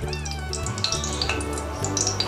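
Cashews and paneer stirred as they fry in a pan, with a light continuous sizzle and small crackles over a steady tonal hum, and no talking.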